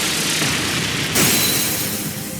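A Brionac weapon blast fired in the video game Trails of Cold Steel III, a loud sustained roaring boom that swells sharply partway through, dense and unbroken.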